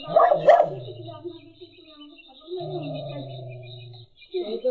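A dog gives a couple of sharp barks followed by drawn-out whining and whimpering, close by, with a person speaking briefly at the end.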